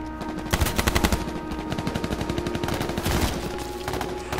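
Rapid automatic gunfire in the video game H1Z1, with dense bursts of machine-gun shots rattling loudly throughout and a few heavier volleys standing out, no talk.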